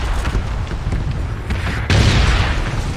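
Airstrike explosions from a game rumble in deep, heavy booms, swelling into a louder, closer blast partway through.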